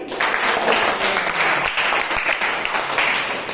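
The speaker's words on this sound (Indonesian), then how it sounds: "Kita beri tepuk tangan sekali lagi." A class of students applauds together in a classroom during an Islamic religious education lesson, a dense, steady wash of clapping lasting a few seconds at moderate loudness.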